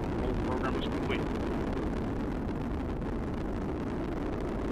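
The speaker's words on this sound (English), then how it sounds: "the Atlas rocket carrying OSIRIS-REx has gone supersonic" Atlas rocket carrying the OSIRIS-REx spacecraft in flight during launch, a constant loud broadband roar heard from a distance that holds steady throughout, with some faint voices over it.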